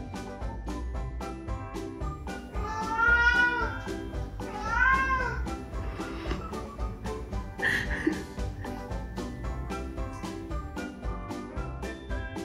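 Cat meowing, several drawn-out meows close up, spaced a second or two apart over faint background music and light jingling.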